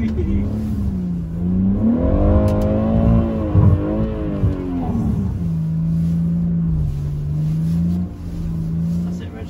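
A BMW M140i revs and slides on a skid pan, its engine note rising and falling as the throttle is worked hard, then settling into a steady drone, with people talking inside the car.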